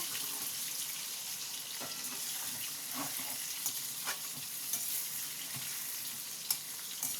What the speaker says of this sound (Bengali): কাঁচা লঙ্কাও দিয়ে দিলাম। এটাকে একটু ভেজে নেব।